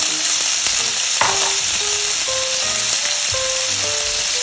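Ground beef searing in a pan while being broken up, a loud steady sizzle with intermittent scraping and stirring taps of a utensil.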